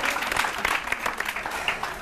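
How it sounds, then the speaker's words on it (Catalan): A studio audience applauding on a television quiz show, a dense, steady patter of clapping hands that holds throughout the short burst. "aplaudim, aplaudim"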